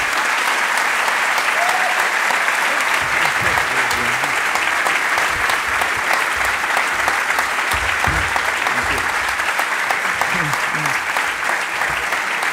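Sustained audience applause after a philosophy lecture by Slavoj Žižek, a broad steady wash of many hands clapping at even volume throughout, with faint murmurs underneath.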